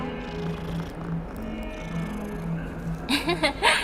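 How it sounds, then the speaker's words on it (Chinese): A tabby cat in the video game Hogwarts Legacy purrs and mews softly under steady game music, with a brief brighter burst of sound near the end. "又有一只猫咪，这只是小花猫"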